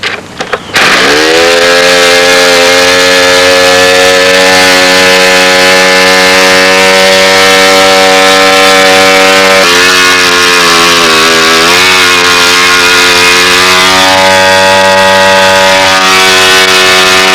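A four-stroke engine fires up close by and runs loud and buzzy, holding a strong steady drone with pitch shifts as it revs up and settles throughout.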